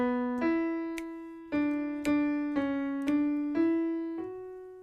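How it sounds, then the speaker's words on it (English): A piano plays the alto line of Lift Thine Eyes, a slow run of single sustained notes struck one by one, each ringing until the next, soft and close. "Okay, sounds like this, just on the piano."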